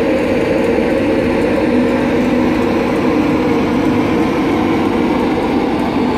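Class 91 electric locomotive 91121 departs Leeds with driving van trailer 82-209 on a Virgin Trains East Coast service to London King's Cross. A loud, steady, full roar of traction and rolling stock builds continuously throughout.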